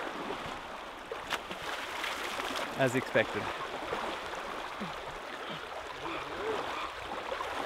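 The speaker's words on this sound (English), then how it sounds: "Plenty of water in the creek today as well," A small creek flows steadily in the Kosciuszko high country near Long Plain, a soft continuous water rush running under faint outdoor ambience, with a few brief knocks and a short spoken phrase partway through.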